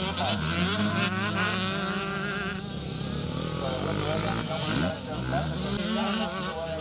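KTM motocross bikes roar up a hill during a charity scramble race, engines revving and whining continuously at close range while a commentator talks over them.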